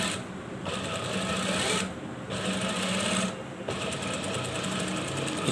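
A sewing machine stitches the lining of a two-piece collar, running in steady continuous bursts with two brief pauses between runs, close and loud.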